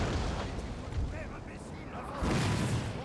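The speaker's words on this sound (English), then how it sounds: "Mortars are still doing their job." Mortar fire and battlefield bombardment in the Napoleon: Total War game at Borodino, a continuous rumbling barrage of booming, crackling blasts with a heavier surge of explosions near the end, under a faint voice.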